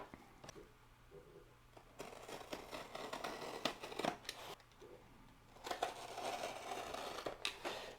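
Packaging for a Micro Swiss extruder is opened, giving close, quiet crinkling, tearing and snipping sounds in irregular bursts with sharp clicks.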